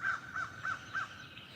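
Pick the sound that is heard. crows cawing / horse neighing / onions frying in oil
crows cawing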